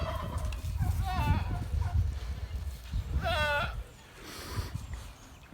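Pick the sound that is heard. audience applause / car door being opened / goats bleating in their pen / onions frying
goats bleating in their pen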